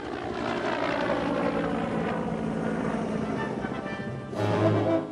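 A CH-53E helicopter roars close by, its rotor chop and engine whine forming a dense, steady drone that swells slightly toward the end.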